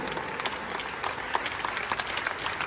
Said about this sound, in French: quand on aime, on applaudit